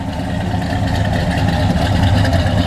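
A 1966 Pontiac GTO two-door hardtop with a mild performance cam idles, a steady deep rumbling exhaust with a slight lope, close and loud, running alone without voices.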